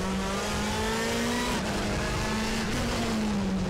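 WTCC 2014 touring race car engine in the RaceRoom racing game, a loud continuous drone that rises in pitch, then drops and settles as the car brakes into a corner, with a faint tire squeal.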